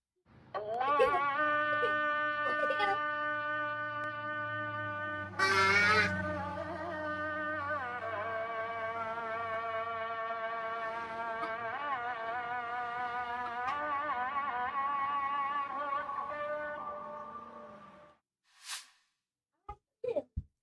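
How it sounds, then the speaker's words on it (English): A distant Muslim call to prayer at 5:30 in the morning carries as a long, wavering sung line that bends and sustains for almost twenty seconds, faint and reverberant, with a sharp noise burst partway through and clicks after it fades. "the Muslim call to prayer at 5:30 in the morning"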